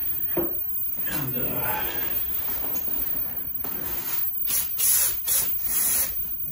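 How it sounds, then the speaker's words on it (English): A few short hissing bursts of brake cleaner spray on a 1973 Mercury 40 hp outboard motor, each under a second, near the end, after quieter rustling and handling noises. "I'll spray it down with a little bit of brake cleaner just to get it clean"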